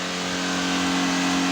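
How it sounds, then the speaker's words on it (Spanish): Honda CB250F motorcycle engine stuck at a high idle from a fault with its stepper valve wide open, a steady, unwavering buzzing hum held at constant revs, close by and with no talking. "Y tenemos el paso a paso muy abierto, donde por eso la moto queda acelerada"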